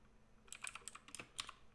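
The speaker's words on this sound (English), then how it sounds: "I have opened a terminal to type these commands" Commands being typed into a terminal on a computer keyboard: a quick, faint patter of key clicks in irregular bursts, close by and alone.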